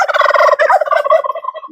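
A farm turkey gobbles in a rapid, rattling burst of repeated notes, loud and close, with no talk over it.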